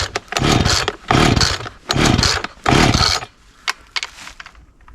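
A chainsaw's starter cord is yanked four times in quick succession in the woods, each pull giving a loud rasping burst of the turning engine, followed by a few faint clicks and rattles as it fails to start.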